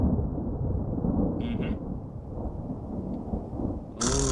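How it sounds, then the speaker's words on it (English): Heavy rain and a low rolling thunderstorm in a video game, a steady deep rumble outside that holds throughout, with a couple of brief sharper sounds over it. "Ooh, and it's raining outside."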